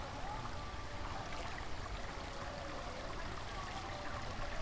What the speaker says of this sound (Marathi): इकडे रस्त्याच्या वरून पाणी जातं